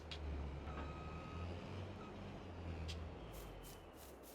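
A truck with a trailer reverses, its steady engine rumble carrying a faint, repeating backup beep, with a few brighter metallic clanks near the end.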